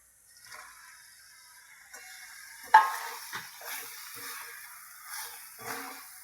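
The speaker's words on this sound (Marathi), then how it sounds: "पहिला शिमला मिरची टाकून घेऊया." Capsicum sizzles softly in a pan while a spoon stirs it, with occasional scraping knocks against the metal, fairly quiet and close.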